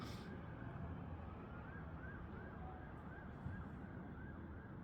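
An emergency vehicle siren, from an ambulance or fire engine on city streets, wails faintly in the distance, rising and falling steadily over a low background hum.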